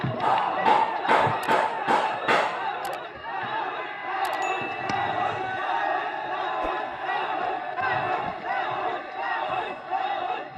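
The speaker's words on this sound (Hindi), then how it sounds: "जिनका आप लोग तालियों के साथ स्वागत करें, मंच पर आए" A large political rally crowd in Jagdishpur welcomes Rahul Gandhi with a few sharp claps at the start, then sustained loud cheering and shouted slogans, with voices overlapping in a raucous, continuous roar.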